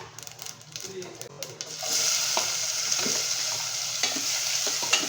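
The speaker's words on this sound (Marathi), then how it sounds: "आपण आता राई ॲड केलेली आहे मस्टर्ड सीड्स" Mustard seeds and cumin sizzling in hot oil in a pan, with a steady bright crackle that swells louder partway through, scattered pops and seed crackles over it, and faint background sounds.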